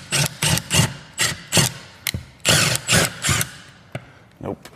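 A drywall screw driven into metal sounds as a series of short, loud buzzing bursts from a driver, stopping and starting in uneven pulses with brief gaps, close by.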